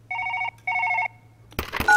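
Telephone bell ringing in two bursts of rapid electronic trills, close and clear, followed by a short clatter of game noise.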